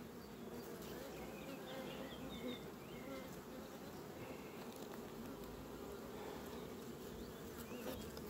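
Honeybees buzz steadily around a beehive that has just had a super added, a faint, dense, continuous hum heard from nearby with no clear voices.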